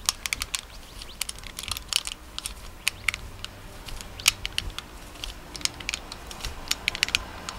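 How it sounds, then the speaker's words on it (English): A wrench tightens a new piston into an Osprey suppressor, producing rapid, irregular metallic clicks and ratcheting ticks up close, with no talking. "Screwing the new piston back in, using your wrench to tighten"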